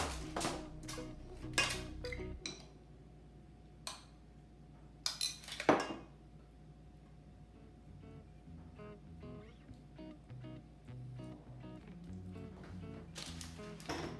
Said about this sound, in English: Place them in our pan.